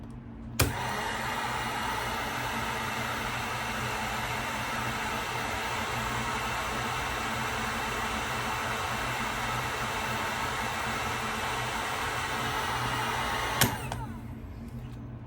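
A heat gun blows hot air over freshly painted fishing jig heads, a steady loud hiss of airflow running nearly the whole time, switched on and off with sharp clicks and no talking.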